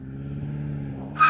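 A new hybrid BMW M5 holds a steady engine drone at the line, then launches with a sudden loud burst of tire squeal at the very end, heard close.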